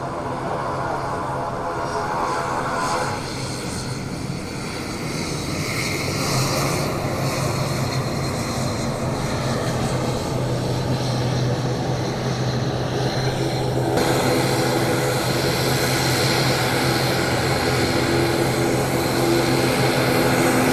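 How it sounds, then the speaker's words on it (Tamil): A fixed-wing airplane lands at an airport, its engine roar and propeller drone sustained and fairly loud for about twenty seconds, steady with a slight rise in intensity partway through. "ஃப்ளைட் வந்து இறங்கின காட்சியில்"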